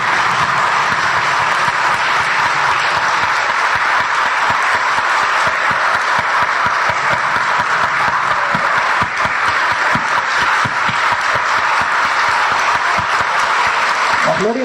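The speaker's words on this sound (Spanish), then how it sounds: "Démosle un aplauso al Señor" Sustained applause from a church congregation at a Eucharist service, loud and steady throughout, with dense clapping filling the whole stretch and a voice rising faintly near the end.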